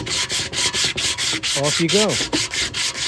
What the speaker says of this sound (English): You can use a sanding block like that.